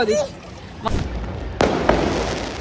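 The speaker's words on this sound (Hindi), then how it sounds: "पटाखा ही है गाइस" Several sharp firecracker bangs go off nearby, each a sudden crack against a noisy background, with a voice briefly audible at the start.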